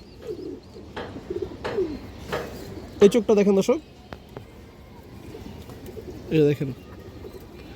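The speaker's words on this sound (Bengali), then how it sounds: "পুরান জাতের বুটফুটের কবুতর, সারা সেলের কবুতর দর্শক" Pigeons of an old Bootfoot breed coo in several soft, repeated bursts, with two louder throaty calls near the middle and the end, heard under someone talking.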